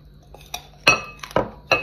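Crunchy bites into a small apple dipped in chili salt, three or four sharp, close crunches at irregular intervals, with no voices.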